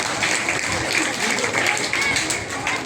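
Audience clapping at a school admission festival marking the start of a new academic session, a dense, steady round of applause sustained throughout at moderate loudness.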